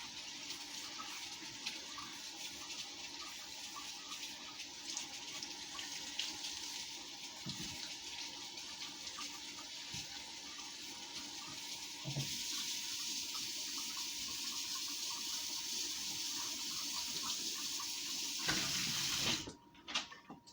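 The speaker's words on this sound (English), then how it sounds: "Let me get that in the sink, the knife in the sink and wash it." Tap water runs steadily into a kitchen sink while a pan and knife are washed, with faint clinks of handling. The flow grows louder partway through and cuts off near the end.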